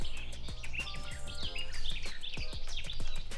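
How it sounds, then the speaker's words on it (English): Several birds sing and chirp in an untouched mountain forest behind a cabin, with bright, repeated calls overlapping at a moderate distance over low background rumble, and no talking. "Listen to the bird sounds."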